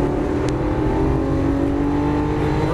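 Lamborghini Aventador LP700-4 on a race track, a steady loud engine drone with rising harmonics as the car accelerates, heard close from inside the cabin with no talk over it.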